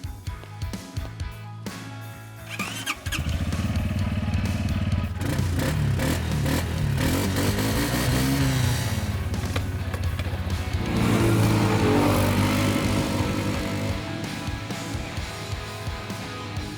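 Compact Loncin ATV engine running steadily through a test ride, a loud continuous motor drone with rising and falling revs after a brief quieter start, no talk over it.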